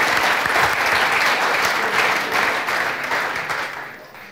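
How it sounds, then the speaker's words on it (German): Studio audience applause at a football talk show, a full sustained burst of clapping that holds steady and then tapers off toward the end. "ihr habt damit auf jeden Fall erstmal einen großen Applaus verdient"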